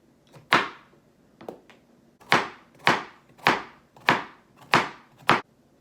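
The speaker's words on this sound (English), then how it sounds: "cut the carrots on a diagonal into 1-inch thick pieces" A knife chops carrots into thick 1-inch pieces on a cutting board, making seven crisp, separate thunks at an uneven, unhurried pace, close and clear with no talking.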